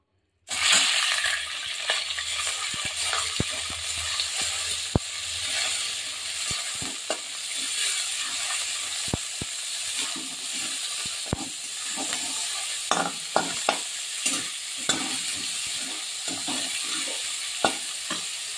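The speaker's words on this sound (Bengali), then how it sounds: "চিকেন কিমাটা এখন আমি তেলের মধ্যে দিয়ে নেব" Chicken mince sizzles and hisses steadily in hot oil in a pan, with intermittent sharp clinks and scrapes of stirring over the continuous frying, and no talk.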